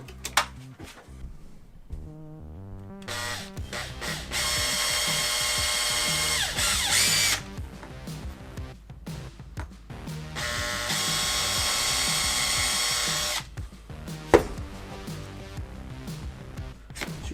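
A power tool cuts the body of an Axial SCX10-III Jeep Gladiator RC crawler in two loud sustained bursts of several seconds each, with quieter clicks and handling noises in between.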